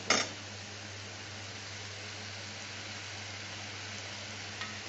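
Doi katla cooking in a pan, a steady soft sizzle of sautéing running throughout after a brief louder clatter at the start, with a faint low hum underneath.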